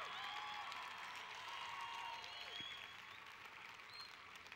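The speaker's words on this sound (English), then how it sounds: "Yes, cheer for him because he is worth it." Crowd at an outdoor evangelistic festival in Arizona cheers and applauds steadily, a dense wash of clapping and voices holding at a fairly even level throughout.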